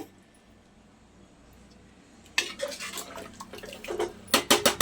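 Curry of green peas in coconut milk being stirred in a pot, a quiet stretch first, then a burst of clanking scrapes and knocks from the spoon against the metal, loudest near the end.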